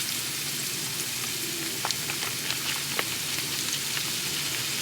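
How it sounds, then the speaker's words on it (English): Flour being stirred into a hot roux for bechamel in a pan gives a steady close sizzle with faint scraping and a few light ticks, no talking. "We add a little and then we stir."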